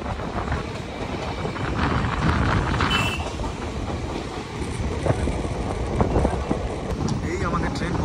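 A passenger train runs on after pulling out of Kasimbazar station toward Berhampore Court. A steady, fairly close rumble of wheels and carriage noise continues throughout with a few faint clicks and squeals, and voices mix in.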